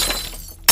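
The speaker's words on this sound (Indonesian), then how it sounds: "Tiba-tiba lampu lorong pecah satu persatu." Glass from hallway lamps shatters in a dark house, as in a rural horror tale, with a crunching break fading into scattered debris before a sharp, loud burst of breaking glass at the very end.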